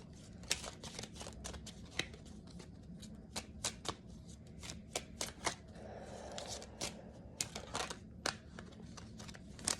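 Oracle card deck shuffled repeatedly, crisp papery riffles and snaps in an irregular rhythm across the whole stretch, close and fairly soft with no talking.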